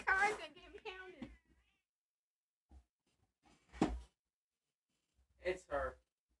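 Willow the cat meows several times, a drawn-out call at the start followed by shorter, separate meows, close and fairly clear with quiet gaps between them.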